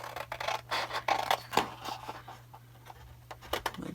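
Scissors cut around glued cardstock with a rapid series of crisp, close snips and scratchy rubbing, uneven in rhythm over a faint low hum, with no one speaking.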